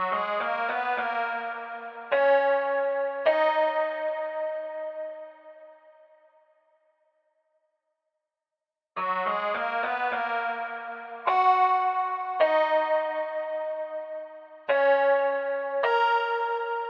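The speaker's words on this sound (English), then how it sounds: "we got this pluck out of the same bank. It's called the pluck notes." Synth pluck notes preset from an SRX Orchestra bank playing a sparse counter melody in a dark R&B beat, ringing plucked chords with echoing decay, a silent gap, then the phrase repeats.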